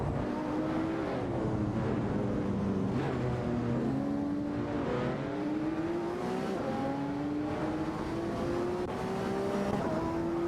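Race cars lapping a track in an AI racing video game, several engines whining and rising in overlapping harmonic sweeps as they accelerate and shift, loud and continuous with no voices.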